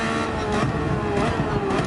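A race car engine held at full throttle at Brands Hatch in Gran Turismo 7, a steady, loud droning roar that stays close and constant through the short stretch.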